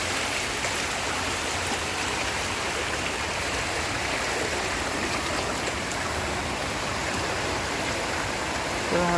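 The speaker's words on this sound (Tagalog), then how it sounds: "Grabe yung baha." Deep floodwater rushing down a street where cars and motorbikes have been submerged, a steady loud broadband roar that continues unbroken throughout.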